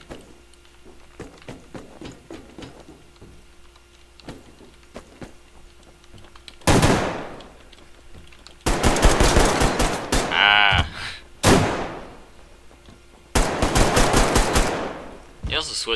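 Gunfire and pistol shots in the online shooter Survarium: loud bursts of rapid automatic fire and sharp single shots cluster in the second half, separated by short gaps, over a quiet ambient background.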